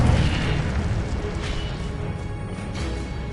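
A fire spell called Incendio cast in the video game Hogwarts Legacy, a loud, sustained booming burst with a roaring low rumble that fades slowly over a few seconds, with no talk.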